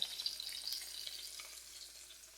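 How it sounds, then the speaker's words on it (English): Onions fry beside bacon cheeseburger patties on a hot cooking surface, giving a faint, steady, hissing sizzle with a few light crackles at the start, heard up close without any voices. "While my burgers are cooking, I'm going to go ahead and toss my onions right over in there on the side."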